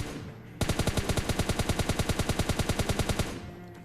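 Automatic gunfire from PUBG Mobile Lite rings out in one loud, sustained burst of about thirty rapid, evenly spaced shots, sharp and close with no voices.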